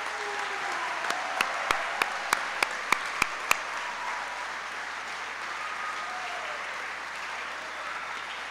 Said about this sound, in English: Will you join me in giving her a round of applause?